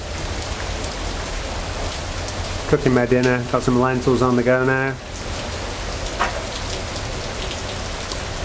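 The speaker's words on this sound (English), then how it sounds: "Hasn't stopped raining all day. If anything, it's just got heavier and heavier" Heavy rain drums steadily on a tent at an improvised roadside campsite in Japan during a cycle tour, close and constant, with someone speaking over it for a few seconds.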